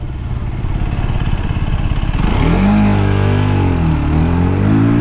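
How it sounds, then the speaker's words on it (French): An Orcal SK01 motorcycle at full throttle, its exhaust giving a loud, close engine roar that climbs steadily in pitch as it revs up, then holds and wavers. "le pot je le trouve assez feutré, mais en fait c'est quand vous êtes vraiment en plein gaz, il révèle un bruit quand même assez sympa"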